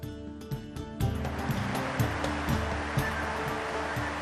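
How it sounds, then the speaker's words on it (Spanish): Clear stream water of the Garganta del Lobo flows steadily near Abadía, a continuous rushing wash with a few soft knocks early on and no voices. "Aguas limpias y cantarinas que discurren camino de Abadía"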